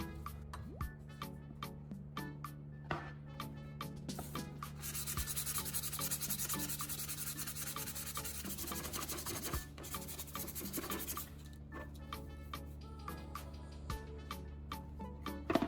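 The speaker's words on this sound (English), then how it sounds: "First, I sand the outside so the raised areas come down." Plastic surface of a broken part being sanded after a foam repair: steady close rasping strokes, rhythmic at first, then a dense continuous stretch of heavy scrubbing before slower, separate strokes return, with no talk.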